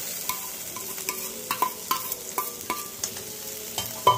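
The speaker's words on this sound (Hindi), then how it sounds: "अच्छी तरह से मैं इसको पहले फ्राई कर लूंगी" Boiled mashed potatoes with turmeric and spices being fried and stirred in a pan, a spoon scraping in a steady run of soft, repeated strokes over a quiet sizzle, close by with no talking.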